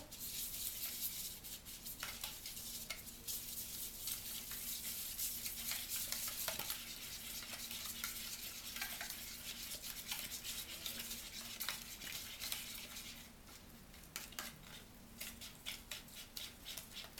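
Pink powder stirred by hand into a Chinese dessert mixture, a steady close scraping and swishing that runs without pause, with small clinks of utensil against the bowl.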